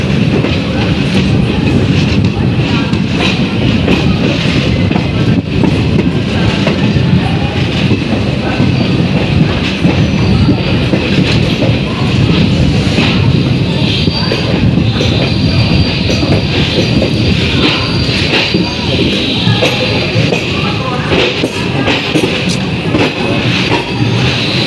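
Riding the Jan Shatabdi Express from Coimbatore to Mayiladuthurai, with loud, continuous rumble and clatter of wheels on the rails and faint squeals, steady throughout with no talk.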